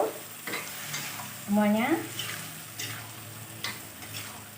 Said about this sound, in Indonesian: Kita aduk kembali sampai tercampur